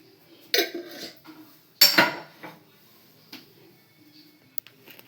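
A pan clattering onto a small stove, two sharp metallic clanks of cookware close by, followed by lighter knocks and a faint click in an otherwise quiet kitchen.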